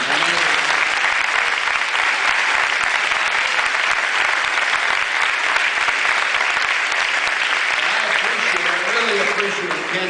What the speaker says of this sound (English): So let's hear it for the Doña Ana County Commission.